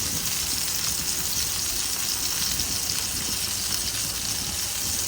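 A fish fillet frying in a pan, a loud, continuous hissing sizzle of hot oil that stays dense and steady throughout, close up with no talking.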